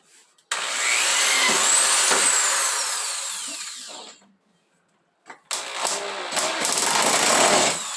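Power drill driving 2.5-inch screws in a shop, a loud high whine for about three and a half seconds, a brief pause, then a second long run, close and alone.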